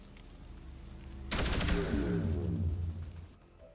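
Gunfire aimed at an alien altar in XCOM 2 strategy game: one sudden loud burst of rapid shots erupts after a quiet hum, then rumbles and decays over about two seconds.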